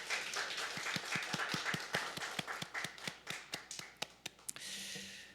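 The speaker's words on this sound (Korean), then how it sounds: "환영의 박수 부탁드립니다" A small church congregation claps in welcome for a returning family during a Sunday service, a modest run of distinct, fairly quick claps from a few people that thins out and stops near the end, leaving quiet room tone.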